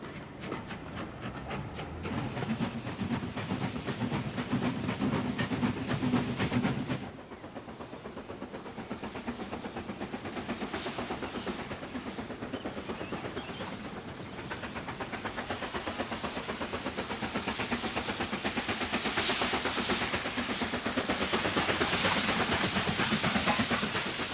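A train on a heritage railway line, heard as a continuous loud rumble and rattle of rolling carriages with hissing, shifting in tone partway through and swelling again toward the end.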